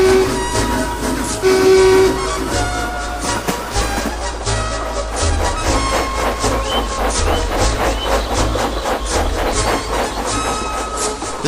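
A heavily loaded goods train runs steadily along the railway, a continuous loud rumble with rhythmic clatter and no voices.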